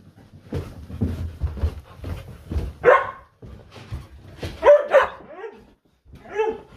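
Rough Collies bark and yip excitedly before a walk, a run of sharp close barks with short gaps between them and no talking.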